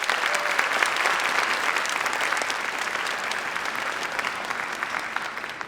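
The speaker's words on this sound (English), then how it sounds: "Let's give them a round of applause." An audience claps steadily after a high school orchestra performance, a dense, sustained round of applause that slowly fades a little toward the end.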